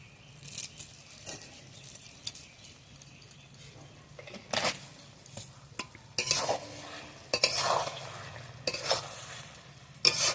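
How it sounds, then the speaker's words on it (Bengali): Sugar being stirred into a fish-head muri ghonto (katla fish head with rice) in a pan on a hot stove: scraping spoon strokes and faint sizzling, intermittent and close, with no talking. "চিনিটা দিয়ে নিয়েছি, নিয়ে নাড়িয়ে নিয়েছি"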